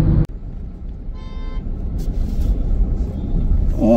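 Passing cars on a Delhi road near Patel Nagar rumble continuously, a steady traffic drone that swells slightly toward the end, with a faint engine whine partway through.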